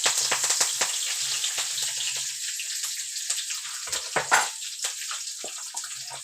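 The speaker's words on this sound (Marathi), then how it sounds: "आता हे पहा, घेतला आहे कढीपत्ता टाकून तेलामध्ये." Curry leaves sizzle and crackle in hot oil, a close, steady frying hiss with sharp pops and spits throughout and one louder burst near the middle.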